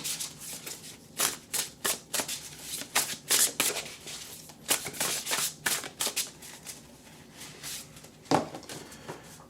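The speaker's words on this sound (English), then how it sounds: "Let's shuffle, shuffle, shuffle." Tarot cards riffle and slap in quick, uneven bursts, a crisp papery shuffling close by with short pauses between handfuls.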